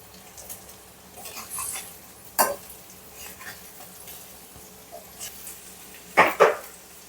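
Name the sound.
egg frying and being turned in a pan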